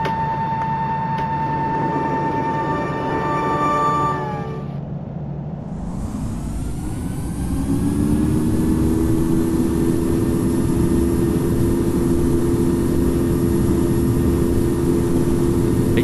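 Airliner jet engines spool up for the takeoff roll, rising from a steady cabin drone into a loud, sustained roar with a rumbling low end that holds steady to the end, heard from inside the cabin with no talking.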